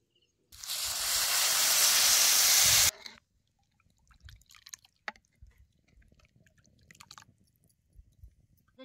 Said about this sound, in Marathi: जरा पाणी ओततो की.